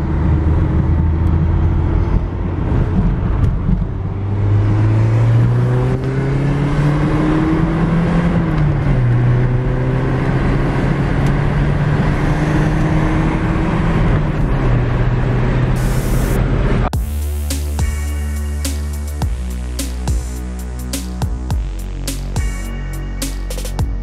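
A cheap Audi daily driver cruising on the road, with a steady engine drone whose pitch rises and falls through gear changes and loud road and wind noise, after which the sound changes abruptly to a different, busier tonal texture.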